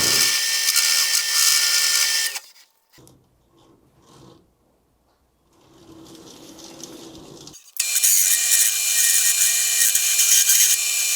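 A power tool grinds harshly at the edge of a steel frame for a reverse trike, loud and close in two bursts separated by a quieter pause with faint handling noises.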